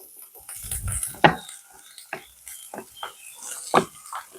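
Boiled potatoes mashed for a potato curry, heard up close as a series of irregular soft thuds and squelchy presses with quiet gaps between them.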